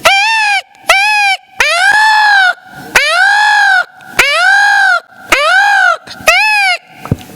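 A man imitating a peacock call, giving a series of loud, nasal, wailing cries in quick repetition, close and strong, each call rising and falling in pitch.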